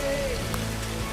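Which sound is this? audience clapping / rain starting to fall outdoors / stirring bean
rain starting to fall outdoors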